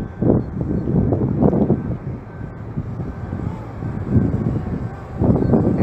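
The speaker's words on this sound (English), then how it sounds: "I'm getting some high wind velocities right now" Gusty high wind buffets the microphone during a DJI Mavic Air drone flight, giving a loud, uneven low roar that swells and fades in repeated bursts, with no voices.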